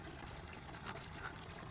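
Coolant trickles and dribbles from a detached radiator hose on a 1993 Toyota Pickup with a 3.0 V6 3VZE engine, a faint, close, continuous watery splatter with no voices.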